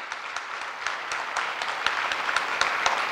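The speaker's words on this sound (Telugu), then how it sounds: "చప్పట్లు మీకు ఆరోగ్యం, వేదిక మీద ఉన్న పెద్దలకి ఆనందం" An audience at a gathering on natural turmeric farming bursts into applause, a dense, sustained crowd clapping that holds steady and swells slightly toward the end, with no voices over it.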